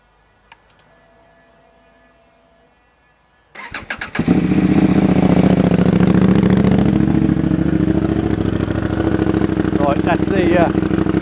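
A CFMoto 800MT motorcycle with a new link pipe starts after a few quiet seconds with a faint tick. The starter churns briefly, then the engine catches and settles into a loud, steady, throbbing idle close by.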